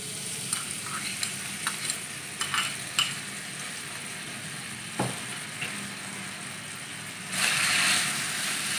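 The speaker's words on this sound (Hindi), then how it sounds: "अच्छी तरह फ्राई कर लेंगे" Finely chopped potato frying in hot oil, a steady sizzle with occasional stirring scrapes and clinks, growing louder and hissier near the end.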